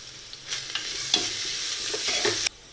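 Onions with ginger garlic paste sautéing in a pan for Kerala-style liver fry, a close sizzle with a handful of spoon scrapes and stirring clacks, ending abruptly, no voices.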